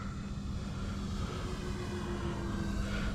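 An FMS F7F Tigercat twin-engine RC model airplane drones overhead in flight, a continuous buzzing engine hum heard from a distance outdoors with no talk over it.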